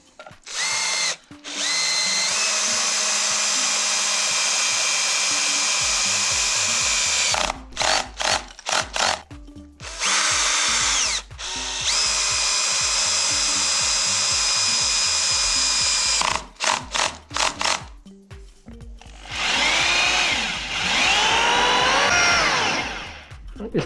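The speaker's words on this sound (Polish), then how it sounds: "Wystarczy tak nawiercić." A power drill bores anchor holes into a window opening during a warm window installation, running in long, loud, sustained bursts broken by short stop-start pulses, with a stretch of wavering pitch near the end.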